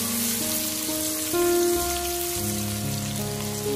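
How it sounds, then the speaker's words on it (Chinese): Shredded potatoes, scallion and garlic stir-fry in hot oil in a wok, producing a steady close sizzle that carries on beneath sustained background music. "炸香以后倒入葱蒜末，继续快速翻炒，炒出里面的香味"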